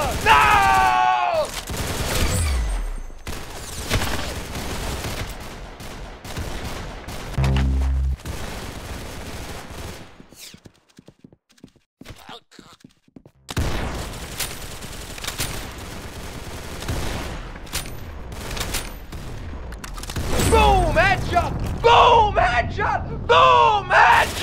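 Rapid bursts of gunfire from the Roblox game Arsenal, loud and dense at the start and end with a quieter gap in the middle, mixed with game effects and a voice talking and yelling over it.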